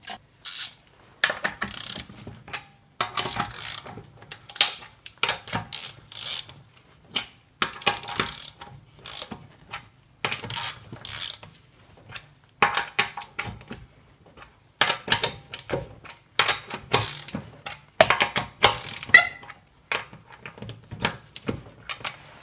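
Lug nuts threaded by hand back onto the wheel studs of a Toyota RAV4 during a CV boot replacement, making a long run of small metallic clicks, rattles and scrapes in irregular close-up bursts with no talk.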